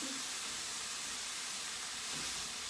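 A steady, even hiss of grapes and other ingredients simmering in a pan for a rosemary, grape and brie flatbread, constant and close with no pauses or voices.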